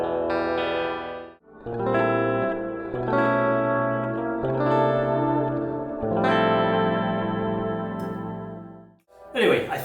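A Sire X6 seven-string electric guitar rings out through chorus, echo and distortion effects, playing sustained chords and notes in several phrases with short gaps between them, loud and close.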